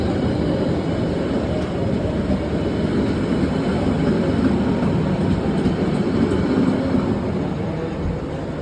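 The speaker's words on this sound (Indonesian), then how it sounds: "Sensasi naik kereta eksekutif madep mundur." Continuous loud interior roar of an executive passenger train with facing seats travelling toward Cilacap, a dense unbroken rumble of wheels and carriage noise with no talking.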